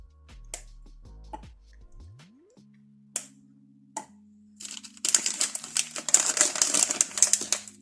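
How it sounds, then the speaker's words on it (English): Chocolate being smashed into chunks by hand for ANZAC biscuits, a few sharp isolated knocks early on, then a dense run of crunching, crackling breaks in the last few seconds, close and fairly loud with no talk. "It's kind of therapeutic smashing up bits of chocolate to stick in."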